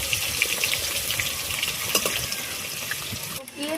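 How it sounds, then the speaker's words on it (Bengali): Potatoes frying in a pan, a steady close sizzle and crackle throughout with small popping spikes, briefly dipping near the end. "তো এখানে এখন আলু ভাজা চলছে,"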